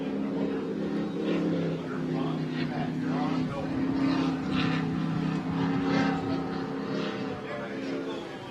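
Racing powerboat engines at the Englewood Beach Waterfest, a sustained droning roar with shifting pitch as boats pass, heard under a commentator's continuous talk.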